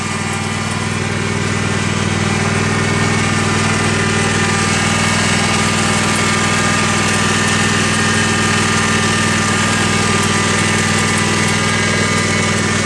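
A tractor engine runs steadily throughout a ride, its loud, even droning hum close and unbroken, with no talk over it.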